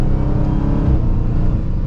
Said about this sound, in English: with the black key, the acceleration is decent